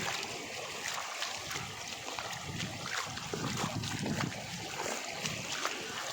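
Floodwater rushes over a village bridge in Saundali in a steady, broadband roar with splashy texture and some wind buffeting on the microphone, continuous and fairly close throughout.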